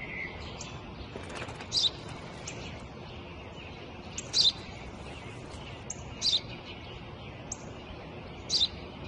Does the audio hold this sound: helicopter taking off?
no